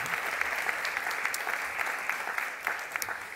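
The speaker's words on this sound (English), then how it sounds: "a round of applause for all the people who have got us here" Graduation ceremony audience applauding steadily, a dense, even wash of many hands clapping close and loud throughout, with no voices over it.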